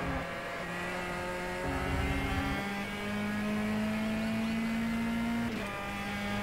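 Touring race car at Interlagos in the Copa Petrobras de Marcas, engine droning steadily from inside the cockpit as it drops down toward third gear, pitch shifting in a couple of steps with a brief dip near the end.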